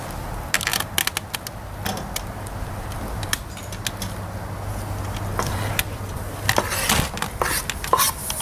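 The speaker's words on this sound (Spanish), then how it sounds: "Y aquí tenemos ya los tomates picados finamente. Ahora vamos a ponerlos a la cacerola." Finely chopped tomatoes tipped into a cooking pot for chicken broth, heard as scattered clicks, taps and scraping clatter of a utensil against the pot over a low steady background, with no talk.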